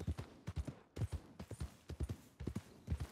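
Horse hooves clip-clop in a steady trotting rhythm in Red Dead Redemption 2, with crisp, fairly close hoofbeats in repeated groups of four and no talk over them.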